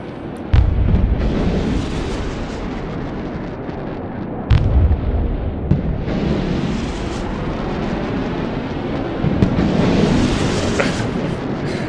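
Ballistic missile strikes in Broken Arrow explode with deep, loud booms, several heavy impacts landing among a continuous rumbling roar of battlefield noise, with no voices.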